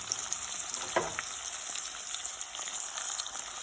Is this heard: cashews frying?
yes